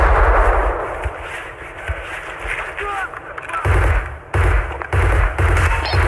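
Grenade blasts and gunfire in the video game Escape from Tarkov, with heavy low booms and loud broadband bursts recurring toward the end over constant dense battle noise, with players talking amid the action.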